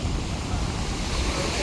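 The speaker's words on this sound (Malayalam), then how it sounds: "റജീദ നല്ല കാറ്റ്, കാറ്റുള്ളതുകൊണ്ട് നമ്മൾ പറയുന്നൊന്നും കേൾക്കത്തില്ല." Strong wind blows by the sea on a Lakshadweep shore, a constant roaring gust buffeting the microphone, mixed with the wash of surf and no clear pauses.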